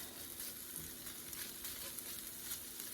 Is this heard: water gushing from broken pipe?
no